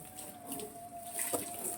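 Rinse water runs steadily off a car's surface after vehicle cleaner is applied, a close continuous splash and trickle with a brief stronger gush near the end.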